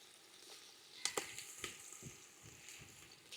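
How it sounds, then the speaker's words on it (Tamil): Onions fry in a pot for mutton biryani, a faint sizzle broken by a few sharp clicks of stirring against the vessel. "அப்படியே இந்த வெங்காயத்தையும் போட்டு வதக்கிட்டு பெரிய வெங்காயத்தை போட்டு லைட்டாக வதக்குனதுமே"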